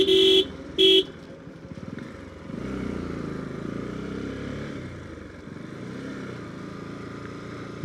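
Two sharp horn toots open the sound, then motorcycles on a mountain road near Keokradong rumble steadily at moderate distance, with no talk.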